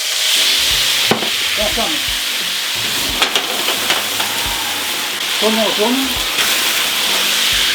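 Cognac poured into a hot pan of steaks for Café de Paris butter, a loud steady sizzle and crackle running throughout, with someone talking over it.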